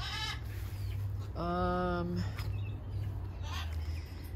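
A chicken gives a clear clucking call over steady outdoor background noise, with a few softer bird sounds around it.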